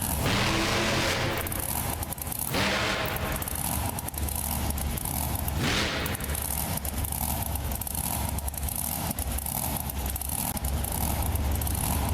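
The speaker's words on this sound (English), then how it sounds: "Next truck out, a great looking Ford Raptor trophy truck body style." A Ford Raptor trophy-body monster truck engine in the BeamNG Drive video game runs at a steady, loud drone, with a few rising revs and brief surges over continuous engine hum.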